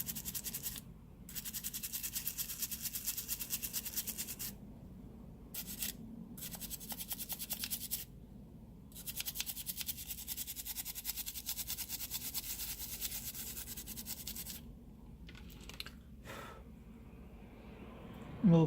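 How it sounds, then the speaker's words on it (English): A toothbrush dipped in alcohol scrubs the charging port of an iPhone 6 with fast, steady bristle scratching, close and continuous, broken by several short pauses. "I will use the toothbrush and the alcohol, and I will clean it very well."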